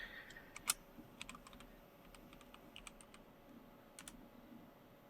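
Quiet, scattered clicks of someone typing on a computer keyboard, irregular keystrokes with brief pauses, faint and close against a low background hum.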